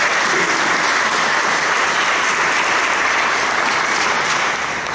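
A church congregation claps loudly and continuously, a thick, close burst of applause filling the room at full strength for several seconds.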